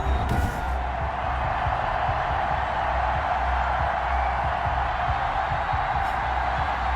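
A stadium crowd in the Madden 21 football video game, Falcons against Eagles, roars in a steady, dense wash of cheering that holds for the whole stretch, with no one talking over it.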